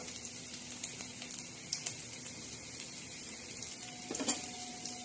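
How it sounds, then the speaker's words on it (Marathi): Garlic and cumin seeds crackle and sizzle softly in hot oil for a tempering, with a few sharper pops and stirring clicks, quiet and close. "प्रथम आपण टाकणार आहोत लसण आणि जिरे तडक्यासाठी"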